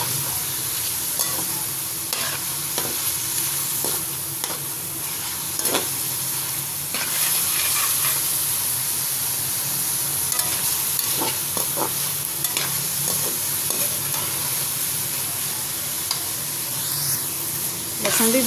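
Garlic paste fries in a pan, giving a steady close sizzle and hiss, with frequent scraping clicks as it is stirred throughout.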